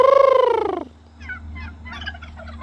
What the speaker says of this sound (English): There's a plane going over and the turkeys start gobbling.